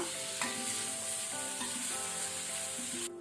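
Jackfruit pieces sizzle and fry steadily in a hot oiled pan, with a constant crackling hiss and a few soft scrapes from stirring, close and fairly loud, with no voices.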